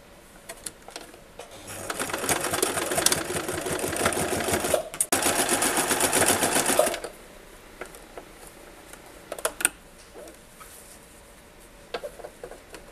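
A sewing machine runs in two close bursts as it stitches the hem of a furoshiki cloth: a dense, rapid mechanical whir with a brief pause between, then stops, leaving quiet handling clicks.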